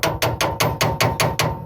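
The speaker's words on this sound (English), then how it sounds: "With the hammer, it moves much easier." A hammer striking the king pin of a 1940s GM sedan, eight sharp metallic blows in an even, quick rhythm, close and loud.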